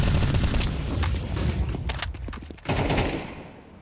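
Rapid gunfire in Counter-Strike at a tournament match, dense bursts of rifle shots crackling loudly, then a sharp burst near the end before fading.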